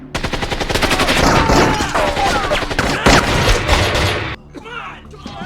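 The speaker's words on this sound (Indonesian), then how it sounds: "terjadilah baku tembak antara tiga kubu di sana" Gunfight in a gangster mafia action film: dense bursts of automatic gunfire and rapid shots fill the scene loudly, mixed with booms and shouted voices, easing off briefly near the end before more shots.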